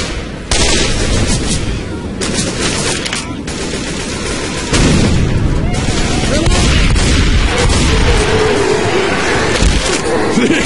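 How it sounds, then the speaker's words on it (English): Shotgun blasts and surrounding gunfire in the zombie shooter Left 4 Dead 2, loud dense bursts and booms filling the whole stretch, with game noise and a voice mixed underneath. "This is a shotgun I can love."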